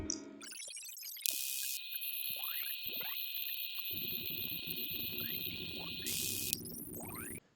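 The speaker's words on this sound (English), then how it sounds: "These are DTMF tones, the frequencies that play when you press a number on your phone." DTMF phone dialing tones play from an audio file, a run of short electronic beeps in quick sequence with rising chirps and steady tone bursts, clear and alone.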